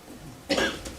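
A single sharp cough breaks out halfway through, loud and close, in a quiet room during a county commissioners meeting.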